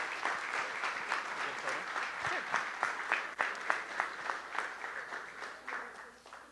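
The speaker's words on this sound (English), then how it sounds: "So another round of applause." Sustained audience applause at a school board meeting honoring students, a dense wash of steady clapping with scattered sharper claps, moderately near and continuous throughout.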